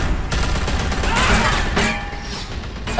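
Gunfire from The Walking Dead: A New Frontier video game: a dense burst of shots with crashing impacts runs steadily through the moment at close range, with no talk over it.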